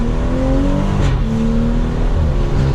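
A BMW M240i accelerates at quarter throttle, heard from inside the car on a drive: a loud, steady engine drone with rising tone, filling the whole clip without any talk.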